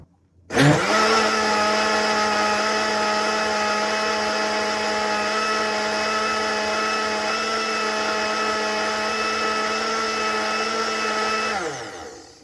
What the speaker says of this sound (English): We're gonna blend this nicely cooked and soft. This is it. We're gonna blend it now.